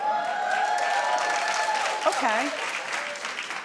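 A studio audience claps in a steady, moderate wash of applause that runs throughout, with people talking over it.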